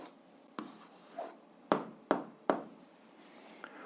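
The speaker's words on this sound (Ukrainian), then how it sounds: "записуємо відповідь, пишемо відповідь" Pen writing an answer by hand on paper during a seventh-grade algebra exercise, a few sharp scratchy strokes and taps spaced out over quiet room tone, close and fairly soft.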